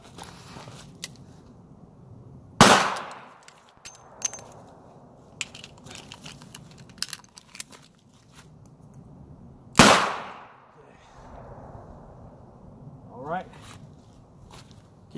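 Two sharp, loud handgun shots about seven seconds apart during cold-weather concealed-carry training, each followed by a decaying ring, with metallic clicks and handling of a speed reload between them and someone talking over the scene.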